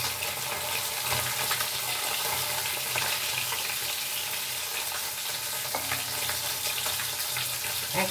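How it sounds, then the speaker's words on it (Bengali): Fish frying in a pan of hot oil, part of a rui fish dish, with a steady, dense sizzle and crackle running loud and close throughout, with no voices over it. "এখন মাছ ভাজা শুরু করেছি।"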